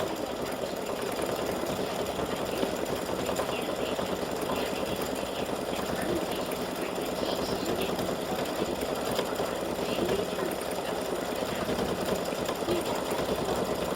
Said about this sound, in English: it'll go around and do the satin stitching, which it's starting to do right now